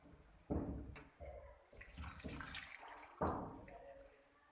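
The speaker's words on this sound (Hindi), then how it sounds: "अब मैं इसमें यहाँ पे पानी डाल ये दो गिलास मैंने इसमें यहाँ पानी डाला है" Two glasses of water splash and pour into a pot of chicken feet and spices in a few short bursts, close and fairly quiet, with brief gurgling between pours.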